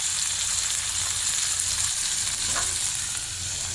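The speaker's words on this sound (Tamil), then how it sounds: "எல்லாத்தையும் ஒரு 5 நிமிஷம் நல்லா வதக்கிக்கோங்க" Onion, tomato, curry leaves and coconut sautéing in a pan for a toor dal chutney, a dense, continuous sizzling hiss with a faint stir now and then, close and steady.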